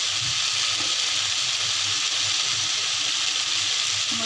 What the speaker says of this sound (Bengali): এটা দিয়ে একটু ভাজা ভাজা হবে